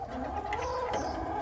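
Hens cluck softly in a farmyard of hardy, early-maturing chickens, including a rooster's offspring, with low, steady murmuring and scattered clucks under constant background noise.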